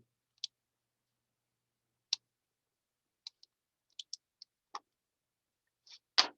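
Mouse clicks while filtering a list in a spreadsheet program, several sharp, isolated clicks spaced irregularly, close and clean against silence.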